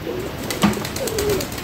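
Pet pigeons in an open coop give a soft, low coo, close by and brief, over a faint background hum.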